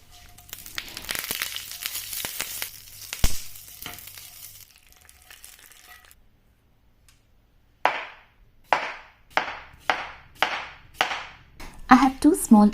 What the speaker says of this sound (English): To make the tadka, a teaspoon of oil, mustard seeds, chana dal,